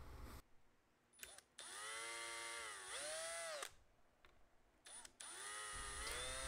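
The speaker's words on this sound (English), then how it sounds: "I could then drill my holes for the screws" A power drill whines up in pitch through several short runs, starting and stopping as it bores into wood, close and alone.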